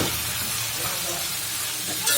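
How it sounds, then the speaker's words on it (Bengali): Tender bottle gourd tipped into plenty of hot oil and cooked spices for a hilsa curry, a loud dense sizzle and hiss throughout, briefly swelling at the end. "তেল বেশি দিয়ে লাউটা দিয়ে দিচ্ছি।"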